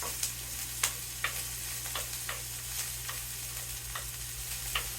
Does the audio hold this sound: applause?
no